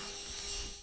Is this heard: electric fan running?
yes